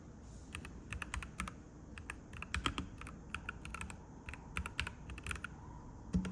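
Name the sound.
typing on a mechanical keyboard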